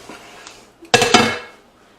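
Mushrooms being stirred into an Instant Pot for keto beef stroganoff, giving a short burst of close metal clatter and scraping that rises sharply, comes in two quick strokes and fades out, with no talking.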